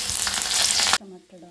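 Cumin, bay leaf, dried chili and garlic hitting hot oil in an iron wok, with a loud, close burst of frying sizzle for about a second before it cuts off to near quiet.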